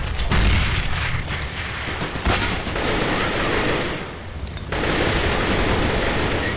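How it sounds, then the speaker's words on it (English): A grenade blasts with a low boom amid a steady barrage of rapid gunfire during a Counter-Strike round on the Inferno map, with dense, loud noise running throughout and briefly dipping near the end. "I am throwing a grenade!"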